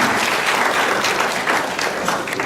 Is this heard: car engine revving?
no